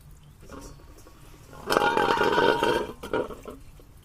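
Coolant running out of the drain tap on a Chevrolet Cruze 1.4T, a gurgling, bubbling rush of liquid that swells suddenly, then sputters and eases off, close by.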